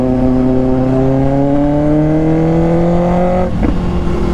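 A Kawasaki ZX6R sportbike accelerates hard, its engine note climbing steadily in a loud, close howl before a quickshifter upshift cuts in with a brief blip and the revs drop and resume, no talking.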